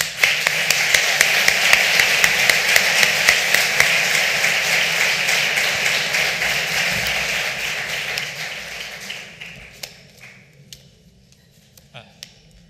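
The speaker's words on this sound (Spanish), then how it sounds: "aplaudirle una vez más" Audience applause after a talk at an olive oil festival event, a dense patter of clapping that holds steady for about eight seconds, then thins and fades away, with some talk mixed in.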